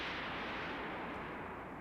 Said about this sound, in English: An explosion shook the air.